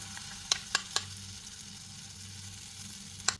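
Chili powder paste hitting sautéed ginger and garlic in hot oil for a Kerala-style fish curry, a steady close sizzle with a few sharp clinks of a utensil on the pan and no voices.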